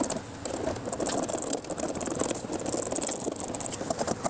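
Screws are snugged down on a Rokblokz mud flap on a 2020+ GMC Sierra 2500/3500HD truck, giving a continuous close rattling, whirring drive sound with a busy, ratchet-like texture and no talk.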